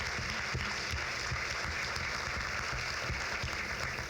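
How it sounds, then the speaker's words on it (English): Sustained audience applause at a university convocation ceremony, a steady dense wash of many hands clapping indoors, fairly loud and even throughout with no voices. "can we have another round of applause for Dan DeMonte, our resident assistant?"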